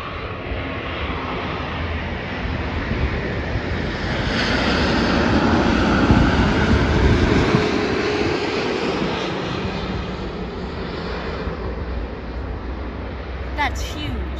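A fixed-wing airplane rolls along a runway just after a hard landing, its engine roaring steadily and swelling louder midway before easing back, heard from a plane-spotting spot with people talking faintly.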